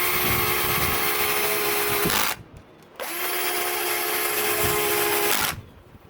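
Power drill whirring loudly as it drives clutch bolts on a 2021 Yamaha YZ450F, two sustained bursts of about two and three seconds separated by a short pause, close and steady with no talk.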